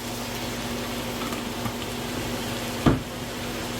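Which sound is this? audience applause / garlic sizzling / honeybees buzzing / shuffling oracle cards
garlic sizzling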